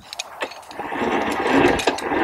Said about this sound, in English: that's going to allow you to start pulling line off of the spool